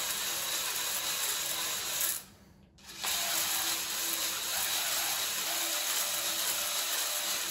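Drill-driven cylinder hone turning slowly in a 1997 Mustang Cobra engine block, giving a steady close grinding whir that drops out briefly partway through before resuming, with no talk.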